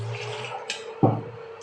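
Water is poured into a pot for homemade kadha, a soft running splash with a brief louder gush and light clinks nearby.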